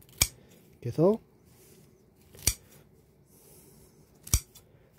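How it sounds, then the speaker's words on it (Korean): Meat-cutting scissors snip through the hard core of kimchi in a kitchen, giving three sharp, isolated snips spaced about two seconds apart, close and crisp, with a brief spoken word between them. "가위, 그 고기 자르는 가위죠"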